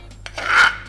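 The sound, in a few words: scraping dumpling filling paste out into a bowl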